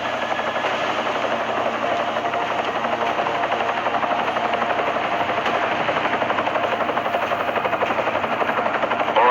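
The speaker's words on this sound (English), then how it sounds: "Enemy helo sighted." Enemy helicopter in the video game Deus Ex Mankind Divided, a steady, loud rotor drone with engine rumble that holds continuously throughout, no voices over it.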